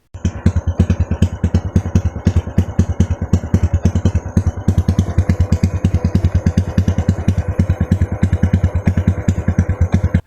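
A small motorcycle engine running steadily at a fast, even idle, with a loud, close, rapid putter and mechanical clatter throughout and no pauses.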